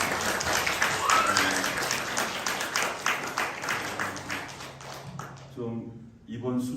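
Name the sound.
church congregation applause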